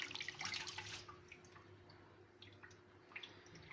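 Water drips and splashes as greens are washed for pide, with a few close, irregular drops over a faint steady background.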